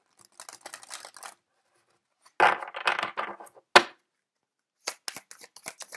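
Oracle cards are shuffled by hand, heard as soft riffling and flicking in short bursts with pauses between them, close and quiet.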